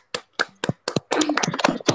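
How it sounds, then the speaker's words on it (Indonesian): Schoolchildren in a classroom clap their hands: a few sharp separate claps, then a denser burst of clapping mixed with young voices. "Tepuk tangan dulu semuanya."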